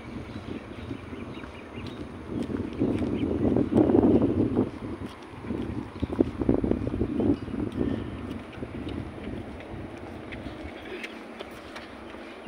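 Gusty wind buffets the microphone in uneven waves, strongest in the middle and easing toward the end.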